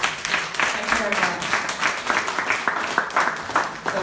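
An audience applauds a speaker, Dr. Adebayo, after a talk on bipolar disorder, with steady clapping from many hands at moderate distance.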